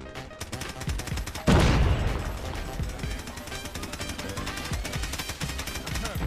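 Automatic weapon spray in Call of Duty Mobile: a continuous rattling burst of rapid shots, with a loud blast-like surge near the start, then steady firing that stays close and prominent to the end.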